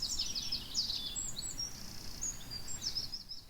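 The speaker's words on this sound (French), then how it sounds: "C'est un moment où les oiseaux chantent entre eux." Garden birds sing at dusk beneath an open window, their high chirps and trills faint and layered over a low steady background rumble.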